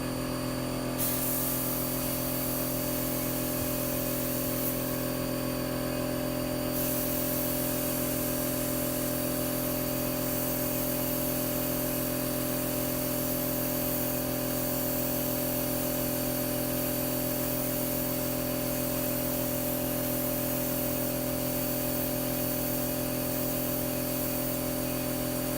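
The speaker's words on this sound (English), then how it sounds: "HVLP guns. They don't atomize very good." An HVLP spray gun spraying primer, a steady loud hiss of air and atomizing paint running unbroken for the whole stretch, with a constant mechanical drone of compressed air beneath it.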